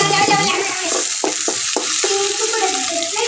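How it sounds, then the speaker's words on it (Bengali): Spices and tomatoes fry in hot oil for a home-style potato, aubergine and tomato chicken curry, giving a steady close sizzle with a few sharp scraping stirs of a spoon against the pan. "টমেটোগুলো আমি মশলার সাথে একটু হালকা করে ভেজে নিচ্ছি"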